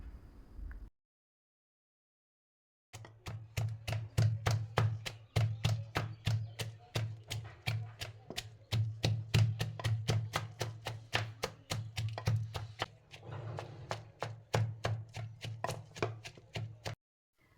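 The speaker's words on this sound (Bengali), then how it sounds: "এখন এই পেঁয়াজ, রসুন এবং কাঁচামরিচ আমি ভালো করে থেতো করে নেব।" Onion, garlic and green chili are crushed for a traditional Bengali khesari greens bhorta, a steady run of close, sharp pounding knocks at an even quick rhythm after a short silence, continuing for many seconds.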